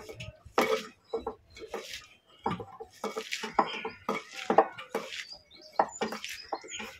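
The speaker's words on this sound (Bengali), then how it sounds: "শুকনো উপকরণগুলো ভালো করে সব মাখিয়ে পেঁয়াজটাকে ভালো করে চটকে নেব" Onions are squeezed and mashed by hand with dry ingredients in a bowl, producing irregular, close bursts of squishing and light knocks against the bowl, separated by brief quiet gaps.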